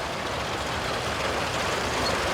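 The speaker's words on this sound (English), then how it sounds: "Here we've got a nice Caterpillar Road Patrol." A gas-powered four-cylinder Caterpillar Road Patrol grader rolls past in a parade, its engine giving a steady, broad rumble that holds at an even loudness with no talk over it.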